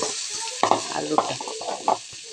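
Potatoes frying and being stirred in a pan: a continuous sizzle broken by several distinct scraping and clinking strokes of a utensil against the metal.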